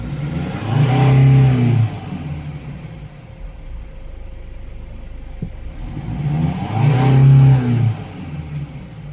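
A 2018 Mercedes Sprinter van's engine, speed-limited to 20 km/h by an AdBlue fault, revs up twice with loud rising roars, dropping back to a low idle hum between the two bursts; nobody speaks.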